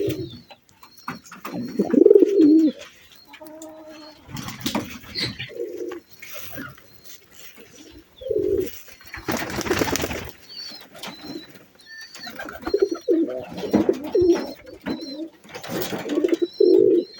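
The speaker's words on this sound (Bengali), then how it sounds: "কবুতরের ডাক কিন্তু আপনাদেরকে শোনাই।" Pigeons coo in repeated low, throaty calls at close range, separated by short pauses, with bursts of wing flapping and a few faint chirps between them.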